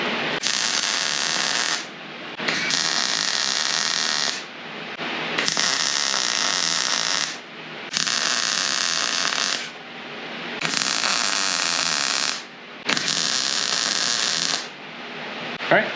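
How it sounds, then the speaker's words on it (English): Tack welds go onto a bracket during rust repair on a Jeep TJ, heard as about six evenly spaced, loud, crackling hiss bursts of roughly two seconds each with brief gaps, very close. "so I can tack weld it on"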